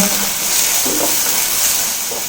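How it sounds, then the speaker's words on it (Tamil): A steady, loud sizzle of onions and garlic sautéing in hot oil, with faint scraping of a spoon stirring the pan. "நல்லா ரெண்டு நிமிஷம் வதக்கி விட்டுக்கலாங்க"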